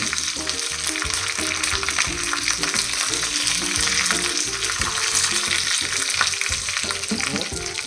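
Chillies fry hard in a pan for an Onam pulissery, a loud, steady sizzle and crackle running unbroken with some stirring and clatter underneath, no voices.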